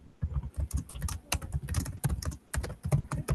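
Rapid, vigorous typing clatters on a computer keyboard, keys struck in quick irregular bursts close by, with no talking.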